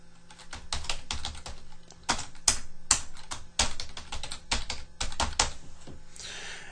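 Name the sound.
typing supervisor details on a computer keyboard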